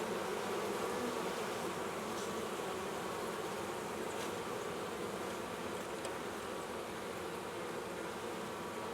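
Honey bees buzzing at a hive before spring build-up, a dense, continuous drone of many insects that stays loud and steady throughout, close by with no talking.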